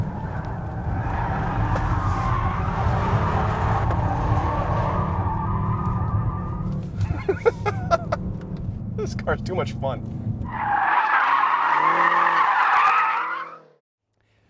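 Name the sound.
BMW M5 F10 tires skidding on test track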